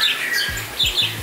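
Pet birds squawk indoors inside a home kept as a mini zoo, giving several sharp, loud calls close by with brief gaps between them and no talking.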